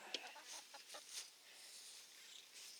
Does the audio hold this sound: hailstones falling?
no